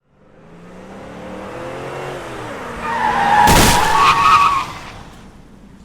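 A car skids before striking a man: tyre noise builds steadily over several seconds, peaking in a loud, harsh screech with a sudden sharp burst midway, then fading out.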